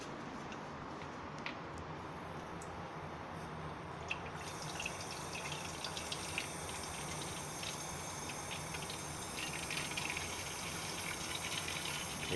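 Water runs from a tap to fill a container in a steady, continuous rush, then grows brighter and stronger a few seconds in, close and unbroken with no talk over it.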